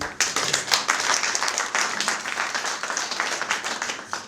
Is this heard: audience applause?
yes